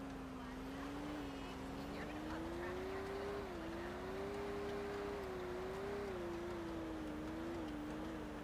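Golf cart in GTA 5 driving along with a steady, wavering engine drone that rises and falls in pitch, continuous and fairly loud throughout.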